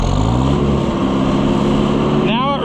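A gas engine on an Oliver 550 tractor runs steadily at close range, a loud continuous idle-to-mid rumble with a firm low throb that holds even throughout, ending in a brief higher whine.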